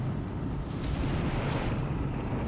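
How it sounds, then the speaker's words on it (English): A direct hit from a Flak 36 88mm gun in Company of Heroes 3, heard as a heavy, roaring explosion rumble that stays loud and sustained across the whole moment. "direct hit from the flak 36 and its 88mm gun there"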